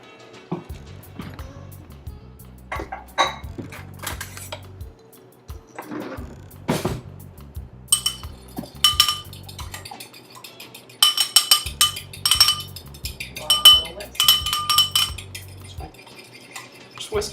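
Rapid clinking of a utensil whisking one egg in a bowl, bursts of quick metallic taps and scrapes starting and stopping over several seconds, close and fairly loud, no talking.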